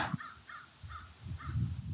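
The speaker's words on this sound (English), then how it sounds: "good old crows. Good old crow." Crows caw outdoors in a steady series of about five harsh calls, evenly spaced and moderately loud against a low background rumble.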